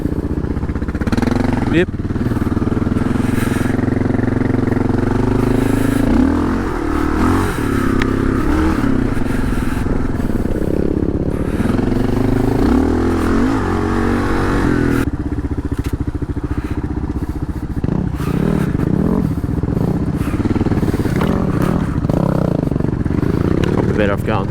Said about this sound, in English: KLR's running great too.